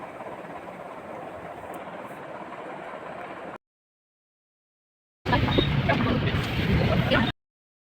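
Train rumbling along between Bareilly and Moradabad junctions in India, a steady, loud rolling noise that cuts out abruptly, leaves a gap of silence, then returns even louder for a couple of seconds.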